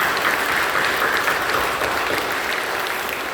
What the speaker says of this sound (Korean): 우리 박수로 서로 격려합니다.